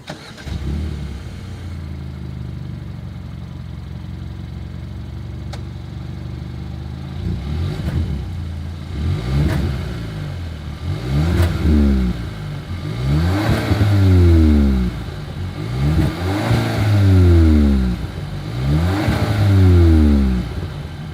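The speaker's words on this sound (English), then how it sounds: "As always, here is that exhaust clip." A 2021 Kia K5 facelift idles, then its exhaust is revved repeatedly, each throttle blip swelling into a loud rising roar and falling back, about five evenly spaced revs recorded close to the car with no talking.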